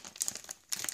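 Plastic packaging on a LEGO Star Wars magazine crinkles in close, quick bursts as hands try to pull it open.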